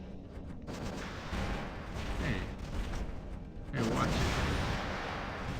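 Robot weapons fire in the War Robots video game as dense, continuous volleys of booming shots, loudening and swelling toward the end, with a voice briefly speaking over the barrage.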